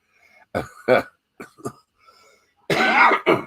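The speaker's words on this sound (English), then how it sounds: "Oh, I hate dry coughs." A few dry, hacking coughs and throat clears, close and isolated, in short bursts separated by silence.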